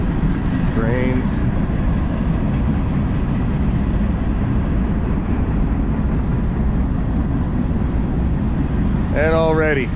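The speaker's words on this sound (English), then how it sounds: "Trains." Train rolling past near a desert camp at Glamis Lake, a continuous loud rumble and clatter of rail cars that holds steady throughout, with faint voices near the start and end.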